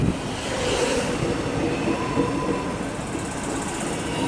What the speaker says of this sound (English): Same train again, just returning 957M.